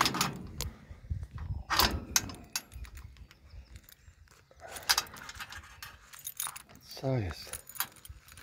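Keys jangle repeatedly while someone works a padlock one-handed outdoors, with cats nearby; clinking bursts come in several clusters over a few seconds, close up, with a brief spoken remark and rustling handling noise.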